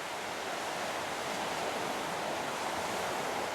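Surf at Clump Point Jetty, Mission Beach, Queensland, a steady broadband wash of waves with some wind rush, continuous and fairly loud throughout with no voices.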